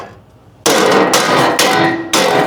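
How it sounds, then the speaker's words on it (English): Several sharp hammer blows ring out against a metal road sign resting on a metal edge, four loud bright strikes spaced about half a second apart, each with a lingering metallic ring, close and alone. "Sometimes they pop out when you pop them with the hammer."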